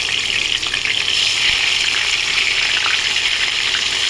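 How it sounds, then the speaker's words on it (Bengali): Rohu fish pieces frying in hot oil in a pan over a high gas flame, producing a loud, continuous, close-up sizzle with no voices. "তেল গরম হয়ে গেছে, এবার এই মাছগুলো দিয়ে দেবো।"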